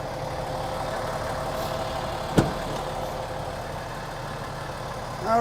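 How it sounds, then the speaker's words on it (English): A 15-liter Cummins diesel in a 2022 Newmar Essex 4551 motorhome idles with a steady, even drone, broken once by a sharp click partway through and a slight swell near the end. "All right, I've got the engine running,"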